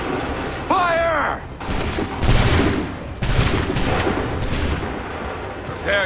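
Musket volleys fired on command during a Revolutionary War battle at Lexington in Assassin's Creed III Remastered: loud, ragged bursts of gunfire crackle and boom, mixed with shouting voices and battle noise.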